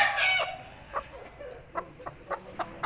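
An Aseel chicken clucks nearby in a series of short, quiet clucks spaced irregularly, with fainter fowl calls near the start.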